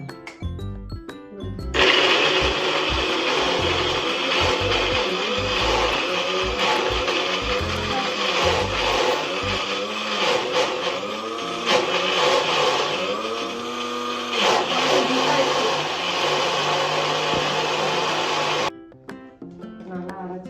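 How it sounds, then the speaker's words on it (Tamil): A mixer grinder jar whirs loudly, blending ingredients and water into a paste for a Sunday breakfast. The steady, high-pitched motor roar runs for about seventeen seconds, then cuts off abruptly, with brief sounds around it at the start and end. "இது வந்து ஜாரில் போட்டாச்சு. இப்போ நம்ம வந்து அதை மிக்ஸ் பண்ணி ஓகேவா?"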